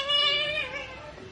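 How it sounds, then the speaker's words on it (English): A cat meows in a single drawn-out, falling cry while climbing a camera tripod, fairly close and clear with no talk over it. "there's literally a cat climbing the tripod"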